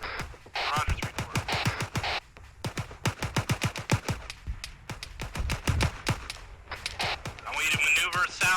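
Rapid bursts of automatic gunfire in an Arma 3 co-op battle, dense rattling volleys with sharp single cracks between them, loud and close, continuing steadily over a faint background voice.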